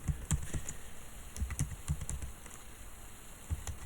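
Several quick keystrokes on a computer keyboard tap out a short word, in soft clustered clicks close to the microphone in a quiet room.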